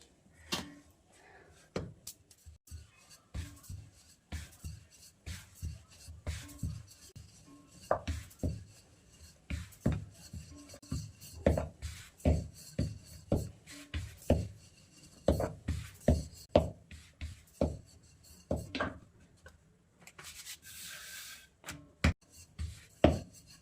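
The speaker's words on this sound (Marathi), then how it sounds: "अशा मस्त लाटून घ्यायची पोळी" Rhythmic thumps and soft scraping repeat steadily as sesame-jaggery flatbread dough is rolled flat with a rolling pin on a board, close by with occasional clinks.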